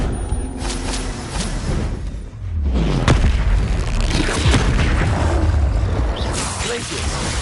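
In the Hogwarts Legacy video game, a Bombarda spell explosion lands as a deep, loud boom mid-clip, mixed with whooshes and layered game effects, while a voice talks over the action.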